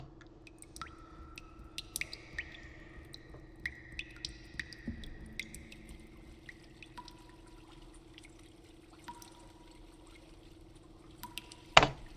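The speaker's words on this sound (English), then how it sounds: "It starts with a bunch of water sounds." Scattered water drips and small liquid plops fall irregularly over a low sustained hum in an electronic music arrangement, ending with a brighter splash.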